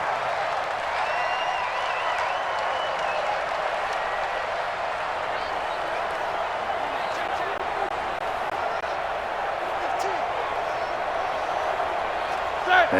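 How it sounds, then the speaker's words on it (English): Stadium crowd in the Madden NFL 20 video game, Pittsburgh Steelers vs Los Angeles Rams, with a steady, roaring home-field din running throughout and sporadic clapping. "The crowd's not doing that O-line any favors."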